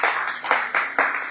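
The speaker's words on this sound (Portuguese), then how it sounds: "As palmas louvam o Senhor," A church congregation claps together in a dense burst of applause with a few rhythmic surges, loud and close.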